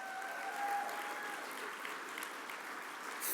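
An audience at an evening awards gala claps in sustained, dense applause that stays loud and even throughout, a large crowd heard up close with no talking over it.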